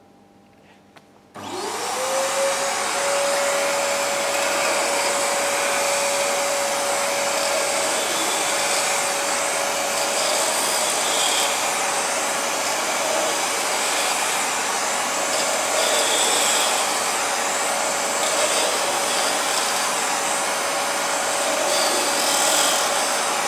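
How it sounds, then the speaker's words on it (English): A vacuum cleaner switches on sharply and then runs at a steady, loud whine and roar while its tip sweeps across a chiller condenser, with faint rubbing and shifting noises over the continuous motor drone and no talking. "I'll be using the tip of the vacuum cleaner to move it methodically across the condenser in a pattern"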